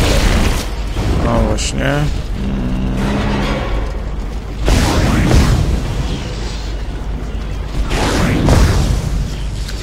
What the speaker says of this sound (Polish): Wybuch mi stary